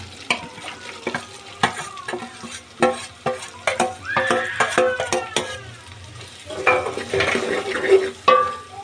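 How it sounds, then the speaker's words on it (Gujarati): Onions sizzle steadily in oil in a pan while a spoon stirs and scrapes repeatedly against the metal, close and clear. "તો ઘડીક આપણે કાંદાને સડવા દઈશું"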